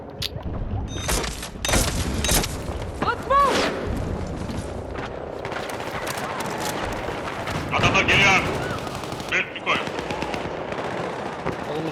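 Gunfire in the video game Battlefield 6 on PS5, with loud separate sharp shots and bursts amid distant battle noise, and players talking throughout.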